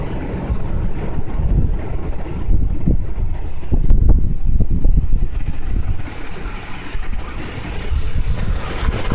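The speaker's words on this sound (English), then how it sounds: "Very windy out." Strong wind gusts buffet the microphone outdoors on a stoop among trees after a night of rain, a loud, continuous rumbling roar that swells and eases in waves with no talking.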